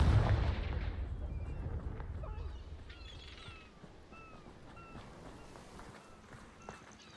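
A Confringo blasting spell explodes in Hogwarts Legacy. One loud, booming blast opens the sound and fades into a long, low rumble. Quieter footsteps and small effects follow.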